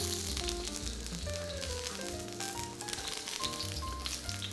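Garlic sizzling in hot vegetable oil in a wok, a constant fizzing crackle under background music with steady tones.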